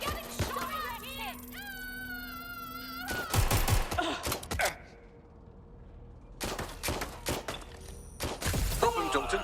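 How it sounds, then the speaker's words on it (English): Gunfire in the video game Watch Dogs Legion: bursts of loud, sharp shots in rapid clusters, separated by quieter gaps with a synthetic tonal whine early on. "Getting shot at here."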